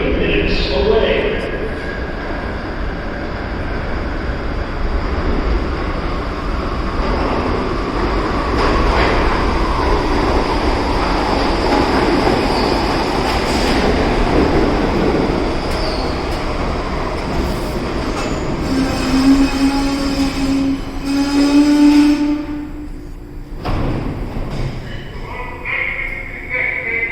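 A New York City subway train on the Lenox Avenue line rolls through the station, a loud continuous rumble of wheels and cars with squealing brakes and rail clatter toward the end.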